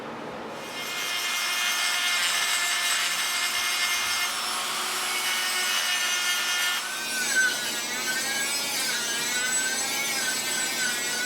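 A dagger blade being worked to carve out a recess: a continuous loud abrasive grinding with a whining tone that holds steady, shifting pitch partway through, close up with no talking.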